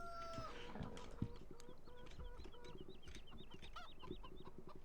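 Chickens cluck continuously in a Polish farming video game, with repeated rhythmic clucks and a few sharper calls over a steady background of farm ambience.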